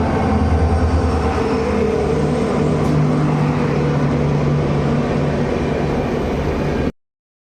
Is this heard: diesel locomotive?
yes